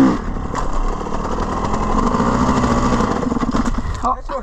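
A four-stroke enduro motorcycle engine runs steadily nearby on a slippery trail ride in Ireland, with a continuous throbbing drone and a brief dip near the end.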